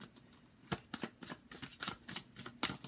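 A deck of tarot cards is shuffled by hand, with a quick series of crisp riffling bursts in an uneven rhythm, close and fairly quiet, and no talking.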